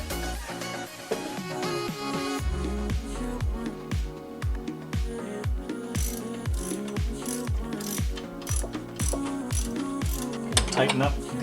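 A ratchet clicks in quick, steady repeated strokes while the alternator belt tension is adjusted on a Mazda Miata, close and clear with metallic mechanical ticks.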